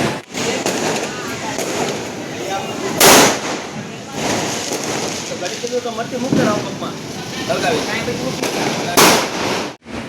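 Diwali firecrackers go off in a few sharp, loud bangs spread across a noisy night scene, with people talking and crowd noise throughout.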